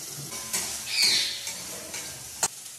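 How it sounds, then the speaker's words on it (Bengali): Soya chunks fry with salt in a pan, giving a quiet continuous sizzle with a few light scrapes and one sharp tap near the end. Nobody speaks. "তো তার আগে এই সয়াবিনগুলো আমি ভেজে নিচ্ছি।"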